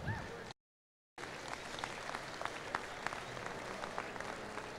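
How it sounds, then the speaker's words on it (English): A crowd claps for young farmers at a junior cattle show, dense steady applause that runs throughout apart from one brief dropout near the start. "let's give these young people a round of applause"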